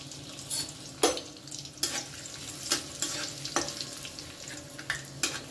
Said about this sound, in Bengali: প্রথমেই আমি কাজু কিশমিশটা একটু ভেজে নিচ্ছি।